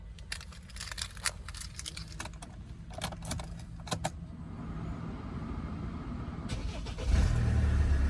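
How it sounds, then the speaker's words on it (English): A 2015 Hyundai Santa Fe AWD wagon starts up: keys jangle and small clicks inside the cabin, then the engine catches near the end and settles into a steady low idle. "I'll just start up the vehicle for you"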